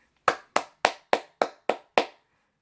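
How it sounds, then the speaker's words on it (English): A man claps his hands seven times at a steady, slightly slow pace. Each sharp, close clap rings alone against silence, with no talk. "Cal, I gave you applause."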